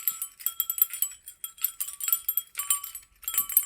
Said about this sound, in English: Sorry about the jingling